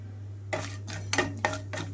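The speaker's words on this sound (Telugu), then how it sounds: "తాలింపు గింజలు వేసి వేయించుకుంటున్నాను ఇక్కడ" Tempering seeds sizzling in about three tablespoons of hot oil in a kadai on a stove, with a few sharp crackles and pops over a steady background hum, moderately close.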